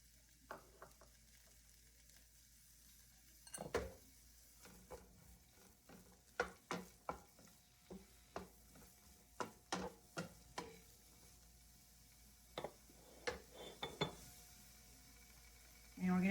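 Broccoli and scallions stir-fry quietly in a pan, with a faint background sizzle broken by repeated light clinks and scrapes of a utensil stirring against the pan.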